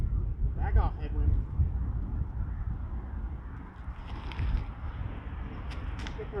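Wind blows steadily across an open disc golf course at a park, making a constant low rumble and buffeting on the microphone that lasts the whole clip, with faint rustles on top.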